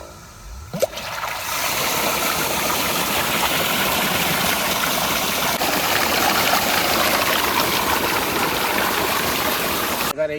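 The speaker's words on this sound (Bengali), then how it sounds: "জল চলে আসে দেখো" Water gushes steadily from a pump outlet into a farm field, a loud, continuous rushing flow that starts after a brief moment and keeps going without letting up.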